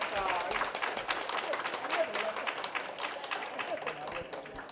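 Audience applause at a Japanese panel event as a session ends, a dense patter of many hands clapping at moderate distance, steady and fairly quiet across the whole stretch.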